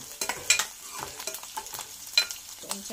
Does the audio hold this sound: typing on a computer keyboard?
no